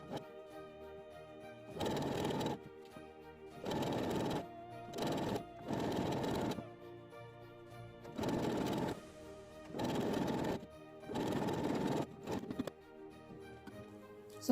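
Sewing machine stitching the back seam of a cowl neck top in repeated loud bursts of running, separated by brief pauses, close and clear with no talk.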